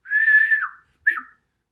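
A narrator's voice imitates whistling during an audiobook reading: one sustained whistled note that dips at its end, then a shorter second whistle after a brief gap, clear and close.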